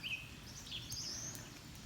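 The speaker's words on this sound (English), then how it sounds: "Nice to hear the birds singing." Birds singing in the early morning after a rainstorm, faint high chirps and short whistled phrases at a distance over a low background rumble.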